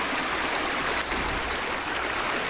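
Flood water rushes in a loud, steady broadband roar that runs without a break from start to finish, close by and not covered by any voices.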